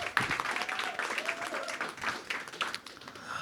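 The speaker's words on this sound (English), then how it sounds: "So I'll ask another round of applause for the speakers" Moderately faint applause for the speakers at a press conference at the People's Forum in New York City, a scattered, steady patter of clapping hands with a brief tonal sound in the background.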